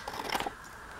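Scissors snip through the edge of a sheet of paper for an envelope folio, a few quiet, close cuts in quick succession lasting under a second, followed by faint room tone.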